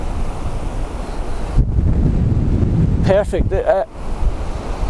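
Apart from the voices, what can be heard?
strong wind on a beach at the Bouctouche Dunes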